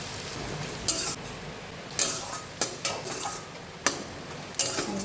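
Chopped onions, four medium ones, frying in a pan until browned, a steady sizzle underneath with several sharp clinks of a spoon stirring against the pan, close and fairly loud, no voices.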